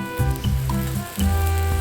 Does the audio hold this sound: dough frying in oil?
yes